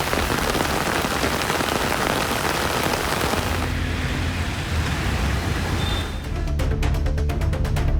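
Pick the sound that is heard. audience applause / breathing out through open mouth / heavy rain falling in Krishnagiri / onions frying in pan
heavy rain falling in Krishnagiri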